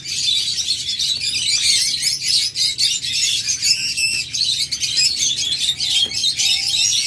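Crowded diamond doves, breeding pairs held for sale, keep up a continuous high chattering of overlapping tweets, even in loudness and close by, with no speech.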